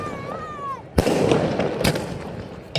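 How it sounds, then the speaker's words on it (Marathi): A ceremonial cannon salute with fireworks at a press premier league cricket event in Jalgaon: two sharp, loud booms ring out about a second apart, with a fainter crack at the end and a crackling wash between. "तोफांची सलामी।"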